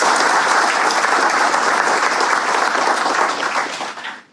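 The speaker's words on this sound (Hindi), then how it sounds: "एक बार जोरदार से ताली बजाएं" Loud, dense applause from an audience welcoming a Shaurya Chakra awardee police inspector, sustained thunderous clapping from a large crowd that fades away at the very end.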